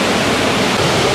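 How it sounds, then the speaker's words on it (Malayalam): A strong stream pours steadily at Melukavu Mechal beside a concrete road, a close, loud, unbroken rush of water with no other sounds. "ശരിക്കും അത്യാവശ്യം നല്ല വെള്ളമൊഴുക്കുണ്ട്"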